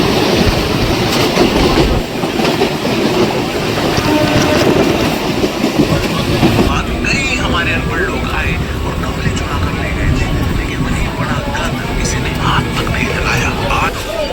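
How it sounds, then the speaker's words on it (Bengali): A train passing by, a loud rumbling roar with rhythmic clattering of wheels that fades and thins out after the first half, heard outdoors and close. "আর এখানে একটা ট্রেন যাচ্ছে।"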